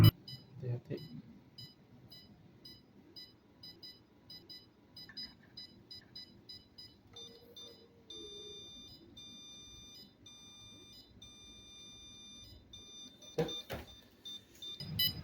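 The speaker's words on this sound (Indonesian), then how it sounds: "bunyi buzzer sendiri itu dia mengikuti jaraknya gitu" Short electronic beeps from a buzzer repeat in a steady, quick rhythm, with faint background noise and a brief clatter near the end.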